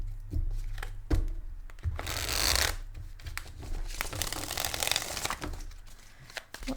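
Tarot cards being shuffled by hand, with bursts of riffling and crisp card-on-card friction, a louder flurry in the middle and intermittent softer shuffles and taps around it, close up.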